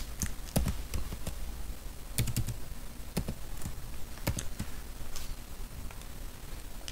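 Keys clack on a computer keyboard while a molecule name is typed into chemistry software, with irregular bursts of close, crisp taps and short pauses between them.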